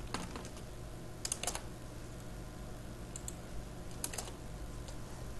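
Code being typed on a computer keyboard; faint, quick key clicks in small scattered bursts over a low steady hum, close but quiet, with no voices.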